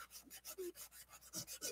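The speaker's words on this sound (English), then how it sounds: "sanding the wrong tube" Sandpaper rubs back and forth on a small metal tube for a scratch-built 1/32 slot car, a quiet, steady rasping of about a dozen quick strokes with no voice over it.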